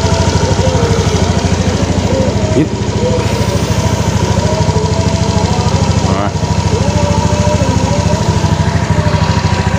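An Indonesian motorcycle from around 2017–2019 idles steadily during a diagnostic scan, a continuous close engine drone with a low pulsing rhythm, someone speaking over it.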